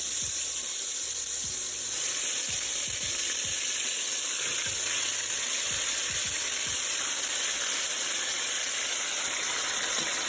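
Chicken pieces frying in caramelizing sugar for a Dominican dish, a steady broadband sizzle throughout with scattered low pops and stirring knocks, close and continuous, no voices.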